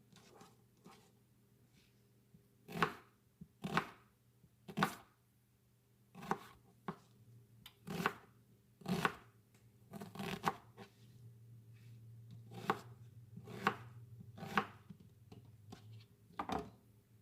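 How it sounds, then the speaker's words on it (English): A knife roughly dices vegetables on a cutting board for kale greens, with sharp, close chopping knocks coming in irregular bursts and pauses over quiet kitchen background hum. "So just dice it up. It does not have to be perfect. Just a rough dice."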